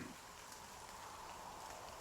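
Steady, even rain hiss in the NieR Reincarnation video game, a soft continuous patter with no distinct drops or voices.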